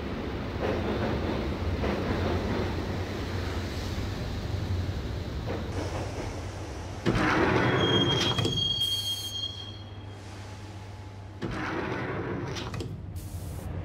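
A subway train rides along in the Max Payne video game, its wheels rumbling and squealing on the rails with a sharp high screech midway and shifting clatter, loud and continuous with no talk.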